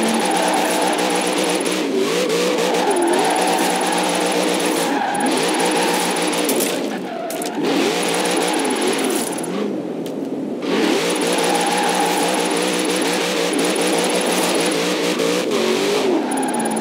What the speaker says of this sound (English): I hope you guys enjoy sounds of these sorts of cars